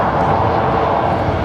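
A freighter aircraft at Brisbane Airport, a steady broad jet engine roar holding even at moderate distance, alone without talk.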